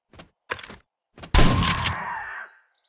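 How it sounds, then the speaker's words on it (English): A single loud gunshot fired at a vulture in the survival video game 7 Days to Die, with a sharp blast and a ringing tail of about a second, preceded by a few soft clicks and thumps. "I'm just going to shoot the vulture."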